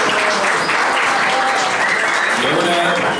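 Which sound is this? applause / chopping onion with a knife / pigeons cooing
applause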